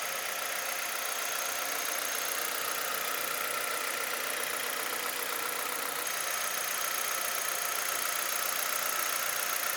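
A Hyundai Avante HD with its 1.6L Gamma engine and four-speed automatic runs at idle, giving a steady, even hum with faint ticking that stays constant and fairly quiet throughout, no voices.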